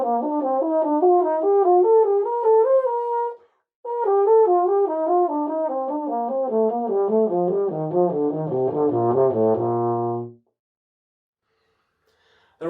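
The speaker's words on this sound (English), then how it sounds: "Another good way to learn your scales is to practice them in thirds." An instrument plays scales in thirds across two octaves in a steady, even stepping pattern: one short run, a brief pause, then a longer ascending and descending run that ends on a low held note, played alone and clearly.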